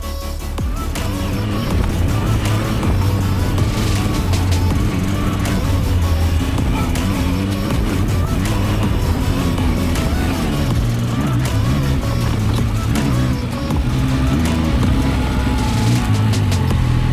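A Zontes 703 F three-cylinder adventure motorcycle on a ride through Italian countryside, its engine droning loud and close for the whole stretch, mixed with heavy wind rush and no one talking.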